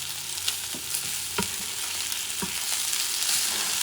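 Fish fried rice being mixed in a pan over medium-low heat, a constant soft sizzle with scattered scrapes and clinks of the utensil against the pan.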